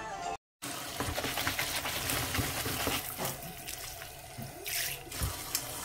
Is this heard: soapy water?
yes